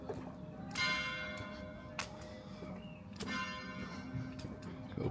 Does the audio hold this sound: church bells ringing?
yes